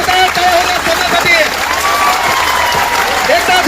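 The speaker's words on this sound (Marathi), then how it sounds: "एकदा जोरदार टाळ्या होत्या समाजासाठी" A large crowd at a student protest rally applauds loudly and steadily, while a voice speaks over the continuous clapping.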